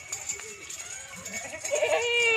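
Goats and young kids on a goat farm bleat amid steady farmyard background noise, the calls growing louder toward the end while someone talks.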